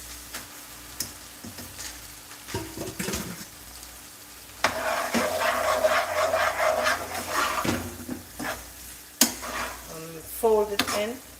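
Ackee being stirred and fried in a pan, giving a steady sizzle broken by scraping stirs, with a few sharp clatters near the end.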